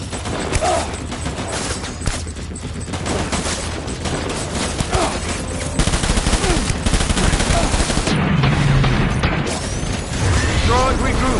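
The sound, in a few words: gunfire in Death Stranding video game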